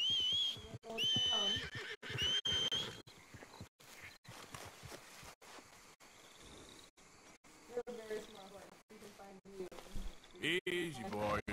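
A horse whinnies several times in the opening seconds, sharp and close, with hoofbeats and rustling of a rider on horseback in a Red Dead Redemption 2 game, then someone talks soothingly over further faint snorts.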